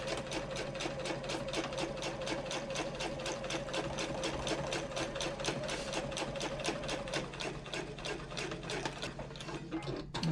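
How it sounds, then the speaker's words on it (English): Sewing machine stitching forward and backward through a handbag panel: a fast, regular mechanical chatter of needle strokes runs steadily and close by, pausing briefly near the end. "begin stitching forward and then backwards and then forward"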